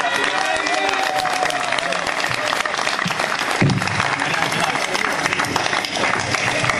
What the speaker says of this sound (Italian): Un applauso a Mariangela.